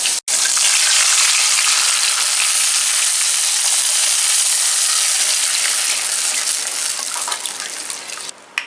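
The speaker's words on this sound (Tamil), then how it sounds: "இந்த ஸ்டேஜில் நம்ம புளி கரைசல் வச்சுருக்கோம் இல்லையா, அதை வந்து ஊற்றிக்கலாம்." Tamarind extract poured into a hot pan for tamarind rice hits the oil with a loud, continuous hiss and sizzle that holds steady for several seconds before easing off near the end.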